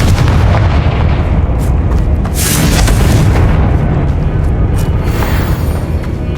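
Loud, sustained booming blasts from the Confringo explosion spell in the video game Hogwarts Legacy, a dense rumbling barrage with sharper cracks layered on top, continuous throughout with no talk.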